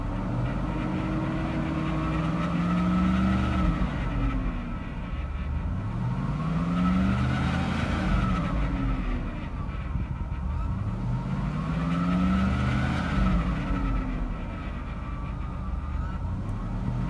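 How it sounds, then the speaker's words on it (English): Engine of a 2004 Cadillac Escalade with about 163,000 miles revved in several smooth swells, each rising and falling back toward idle in a regular cycle, heard up close with a little rattle. "Not gonna rev her up too much, but she revs up nice and smooth."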